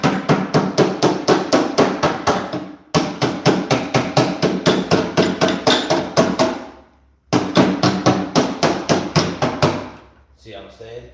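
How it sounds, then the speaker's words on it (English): A body hammer strikes sheet metal in fast, even bursts of sharp ringing blows, pausing twice before resuming, loud and close. "And that's where your body hammer comes in."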